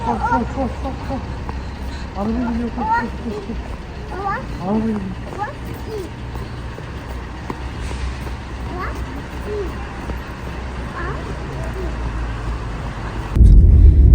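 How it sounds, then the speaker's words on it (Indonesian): Traffic jam beside road construction for an underground gas line in Turkey, a steady low rumble of idling cars and trucks with a louder engine surge close by at the end, under talk. "Dan sekarang kita on the way tapi macet."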